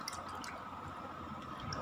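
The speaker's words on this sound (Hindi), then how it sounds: "मैं वापस अपने पैरों को पानी में डालती हूँ" Feet slip back into a basin of water during a home pedicure, giving soft dripping, sloshing and squishing sounds close by, with no talking.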